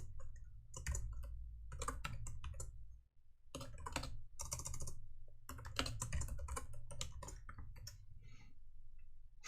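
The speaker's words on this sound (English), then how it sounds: "let's go ahead and just type this out" Keystrokes patter on a computer keyboard in uneven bursts with short pauses between runs, close and fairly quiet.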